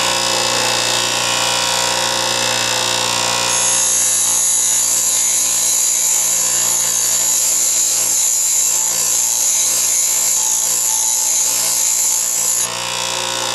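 A bench grinder wheel grinds a lathe threading tool held freehand, producing a loud, steady high-pitched whine that runs continuously over the motor's hum.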